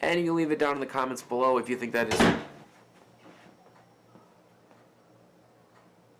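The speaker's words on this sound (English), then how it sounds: "that door just like totally slammed behind me" A door slams shut with one sharp, loud bang right after a person stops talking, then fades into faint room noise.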